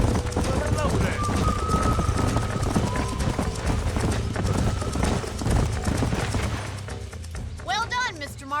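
Horses gallop in a Red Dead Redemption video game with a dense, steady clip-clop of hooves over a busy scene, a whinny near the end, and voices talking throughout.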